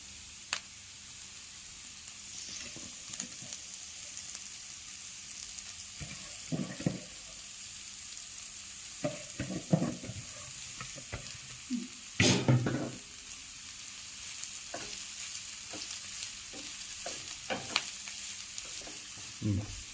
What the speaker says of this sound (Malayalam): നമുക്ക് ചീര ഇട്ട് കൊടുക്കാം